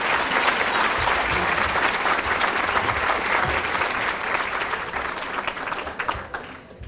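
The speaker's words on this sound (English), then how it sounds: "Give her a round of applause." An audience at a children's charity awards event gives a full round of applause, dense and steady for several seconds before tapering off toward the end.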